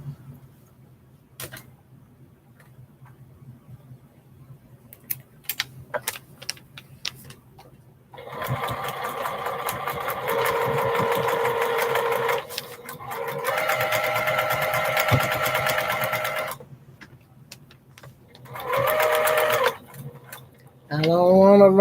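A sewing machine stitches a head piece onto an African Brother quilt block, running in several loud, steady bursts of a few seconds each with short pauses between, after quiet handling and clicks at the start.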